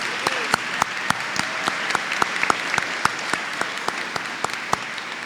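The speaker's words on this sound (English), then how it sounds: "Let's give a round of applause not only to Mr. Welsh" Applause at a charter school graduation ceremony, a sparse scattering of individual claps in a large room, each sharp clap distinct over a soft roomy background, fairly steady throughout.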